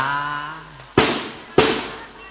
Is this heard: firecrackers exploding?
yes